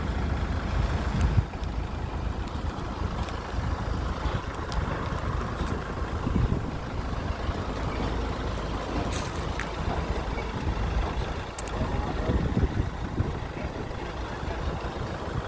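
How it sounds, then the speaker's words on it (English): A Kubota LA1065 tractor runs at a steady, continuous idle during unloading, a low engine rumble sounding fairly close throughout with no obvious changes in pace. "We go unload the tractor, our tractor Kubota LA 1065"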